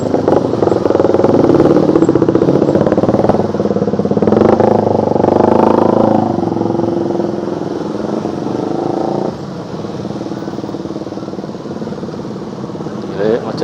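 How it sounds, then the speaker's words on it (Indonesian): Motorcycles idle and rev nearby in a dense morning traffic jam on the Bekasi to Jakarta commute, a steady loud engine drone with clatter throughout. "ini motor berisik juga ya,"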